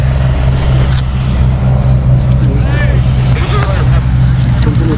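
Royal Enfield Himalayan 450 motorcycles ride off-road with a loud, continuous low engine drone and some revving, while people talk over it.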